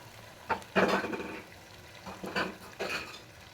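Ginger-chili paste, tomatoes and meat being stirred and fried in a pot for pilau, heard as a few clattering bursts of utensil scraping against metal, moderately close, with quiet gaps between and no talk.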